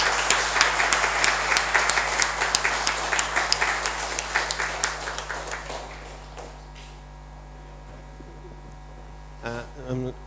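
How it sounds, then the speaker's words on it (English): A conference audience at a GST conclave breaks into loud, thick applause, crisp claps pouring out densely before thinning and fading away into a quiet hum of room noise, with a short burst of sound near the end. "join with a thundering round of applause"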